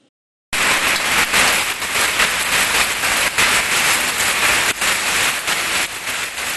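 Heavy rain pours in a thunderstorm with hail in Jabalpur, a dense, steady roar of drops striking surfaces, loud and continuous after a sudden start, with no voices.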